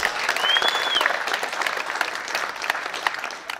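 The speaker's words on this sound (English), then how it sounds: "Give him a round of applause." An audience gives a speaker a round of applause at a public gathering. The clapping is dense and fairly loud, continuing steadily for the whole stretch without a break.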